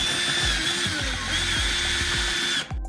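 Power drill pre-drilling through wooden legs and a support on a garage workstation built from scrap materials, running steadily with repeated bursts as the bit bites, loud and close, then stopping at the end.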